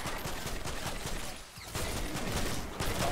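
Rapid gunfire from the Primal Rifle in Fortnite Save the World, a dense, loud burst of shots that continues almost without a break, dipping briefly in the middle.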